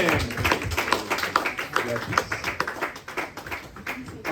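Church congregation clapping together at a Sunday worship service, a dense steady patter of many hands that carries on for several seconds, with voices mixed into the applause.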